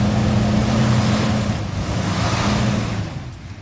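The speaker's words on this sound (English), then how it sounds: "Let's give her a little rev" A Mopar car engine revs up from idle during a charging system check, a loud, close, steady engine roar that briefly dips and then swells again, with no talking.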